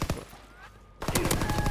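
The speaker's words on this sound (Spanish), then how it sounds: "Yo me rayo porque suenan disparos randoms" Scattered background gunfire in a World War II shooter game, a quick flurry of sharp shots at the start and a denser burst of rapid fire after a brief pause.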